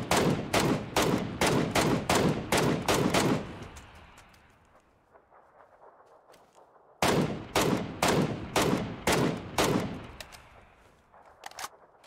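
Rapid bursts of automatic gunfire from the battle royale game PUBG, two loud volleys of sharp cracking shots separated by a quieter gap, with a few isolated shots near the end.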